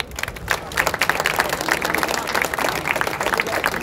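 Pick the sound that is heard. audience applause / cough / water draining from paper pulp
audience applause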